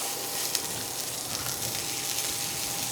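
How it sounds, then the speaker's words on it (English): A continuous crackling sizzle of meat frying in a hot pan, steady and close, with tiny pops scattered through it. "oh, you hear that sizzle?"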